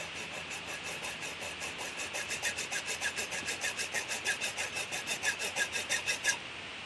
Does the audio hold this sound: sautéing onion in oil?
no